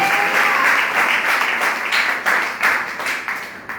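A congregation claps together at a fasting prayer meeting, a loud sustained round of applause that thins into a few separate bursts toward the end.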